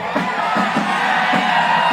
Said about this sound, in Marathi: हा आता नुसतं जल्लोष कर